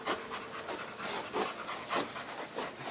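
A pregnant bully breed dog pants close by in quick, rhythmic bursts, the breathy huffs repeating about every half second in an otherwise quiet space.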